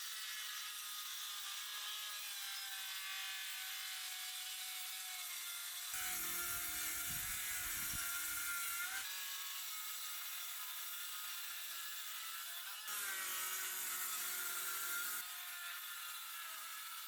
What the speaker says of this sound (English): To rip the plywood to size, I'm using my circular saw and the long piece of lumber to keep the cut straight.